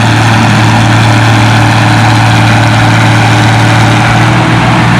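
A heavy tractor engine at a tractor pull roars loudly and steadily at close range, a constant low drone with no pauses or voices.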